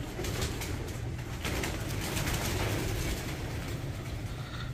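Pigeons in a breeder's loft coo continuously at close range, layered over a steady dense background hiss and rustle, with no talk heard.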